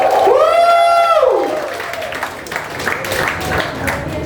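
A church congregation cheers and applauds, opening with a loud rising shout over the crowd, then continuing with sustained clapping and scattered voices.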